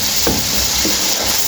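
Spices and fennel seeds roasting in a pan as a spoon stirs them, a constant hiss of sizzling with two brief scraping strokes.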